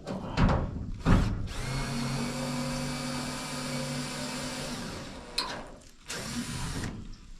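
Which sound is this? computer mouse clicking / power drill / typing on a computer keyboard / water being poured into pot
power drill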